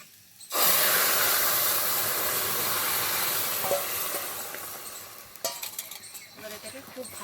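Crushed ginger sizzles loudly in hot oil with chilli and black cumin for a Bengali pumpkin-leaf curry, a steady broadband hiss that starts abruptly, then fades slightly as stirring clinks and scrapes come through near the end.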